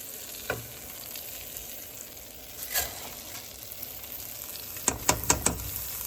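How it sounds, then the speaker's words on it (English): Rice frying in melted butter at medium heat for Mexican rice gives a steady soft sizzle, broken by a few louder scraping stirs near the end. "we're gonna melt the butter and fry the rice until it turns a little bit brownish"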